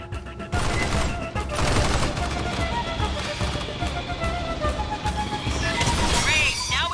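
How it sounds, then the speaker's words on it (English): Dense, continuous bursts of gunfire in the video game Aliens: Fireteam Elite on PS5 fill the space, loud and chaotic, with rattling automatic fire and crashing impacts layered over faint voices. "Must have heard the gunfire."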